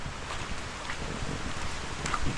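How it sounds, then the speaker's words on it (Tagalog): Rain falls outdoors in a steady, close hiss that keeps going throughout, with slight gusty swells and no voices. "Yan ang ulan."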